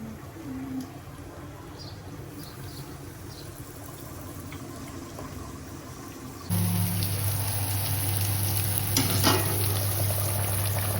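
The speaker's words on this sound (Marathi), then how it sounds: "चला आता फिश फ्राय करून घेते" Fish frying in a pan, a steady close sizzle that jumps louder partway through, with a hum and a few clinks and scrapes over it.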